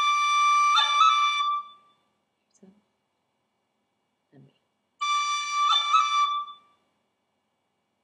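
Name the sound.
high D roll played on whistle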